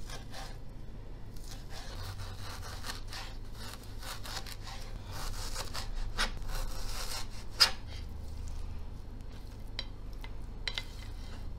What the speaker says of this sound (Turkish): Tavukları da kuşbaşı şeklinde doğrayacağım.